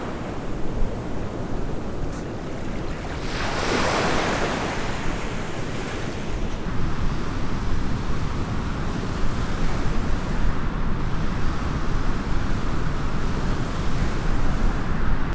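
Ocean waves wash onto a wild European beach in a continuous roaring surf, with a louder wave surging in early and wind buffeting the microphone throughout.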